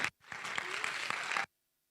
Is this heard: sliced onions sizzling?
no